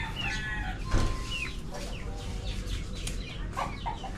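Several chickens cluck and squawk in irregular bursts nearby, with a rooster-like call among them over a low background hum.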